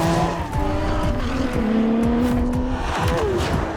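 A Ferrari 849 Testarossa Spider is driven hard, its engine pitch rising and falling with gear changes while tires squeal loudly across the middle stretch, all close and without talk.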